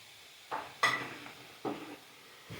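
A spoon stirs green gram stir-fry in a pan in a few separate scrapes and knocks over a low, steady sizzle, with no voices.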